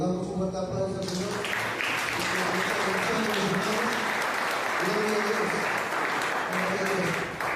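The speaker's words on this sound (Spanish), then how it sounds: "Damos un fuerte aplauso al Señor." Loud, sustained applause fills a church service, with voices and singing-like tones rising beneath the clapping throughout.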